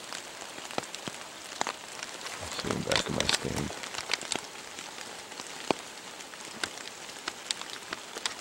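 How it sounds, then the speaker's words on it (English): Rain falls outdoors on a nasty day during rifle hunting season, with scattered drops tapping nearby against a steady soft wash while someone talks over it. "despite it being raining and nasty out"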